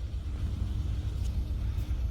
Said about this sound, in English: I'm sitting here because there's this truck coming by.